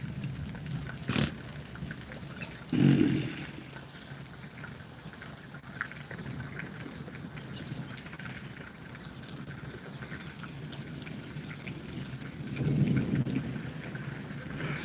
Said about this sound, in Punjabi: ਹੁਣ ਥੋੜਾ ਜਿਹਾ ਮੀਂਹ ਘਟ ਗਿਆ ਜੀ